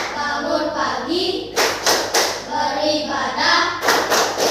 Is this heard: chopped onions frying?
no